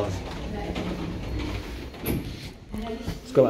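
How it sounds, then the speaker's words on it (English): Glass Schindler passenger lift doors, rated for 14 people, slide shut with a soft mechanical rumble and a light thud at the end, while a person speaks nearby. "Door closed when I push the button like that."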